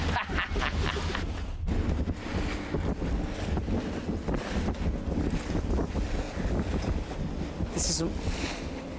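Steady outdoor wind roar buffeting the microphone on a yacht deck at sea, with a constant low rumble like water and an engine beneath it.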